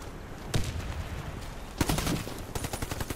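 Bursts of AK-103 Kalashnikov rifle fire, three loud clusters of rapid shots about a second apart, close and sharp with no talking.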